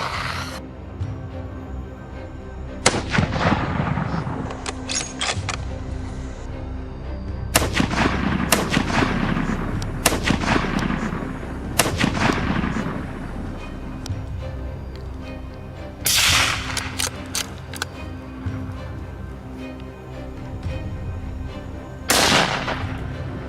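Rifle shots during a night boar hunt: about five sharp, loud gunshots spaced several seconds apart, each with a rolling echo tail, over a quiet outdoor background with no speech.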